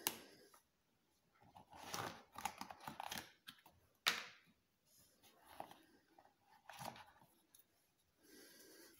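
Packaging of an O-Light Archer flashlight being opened: crinkling plastic, rustling and tapping handling noises in irregular bursts, close and moderately quiet, with a sharp click near the middle.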